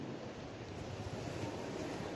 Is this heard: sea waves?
yes